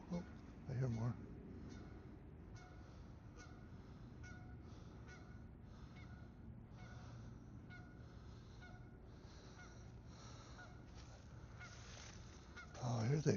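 A flock of geese honking on a winter solstice dawn walk, distant repeated calls in an irregular rhythm over a steady outdoor background, faint overall, with brief louder bursts near the start and end.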